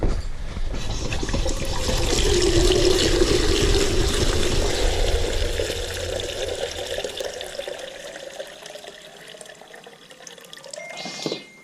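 Water running from a tap into a pot, a loud, close, steady rushing gush whose pitch rises as the pot fills, ending with a short clatter.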